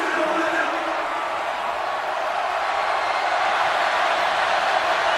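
Steady roar of a college football stadium crowd at LSU versus Arkansas, a dense wash of cheering voices holding loud and constant throughout with no break.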